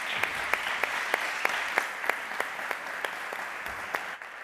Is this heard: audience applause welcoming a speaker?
yes